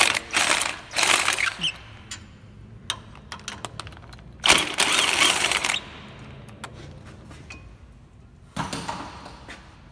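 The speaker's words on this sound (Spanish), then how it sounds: "vamos a quitar los tornillos del portabalatas" A ratchet with a 17 mm socket loosens the brake caliper bolts on a Nissan Tiida, giving close, irregular bursts of clicking separated by short quiet pauses.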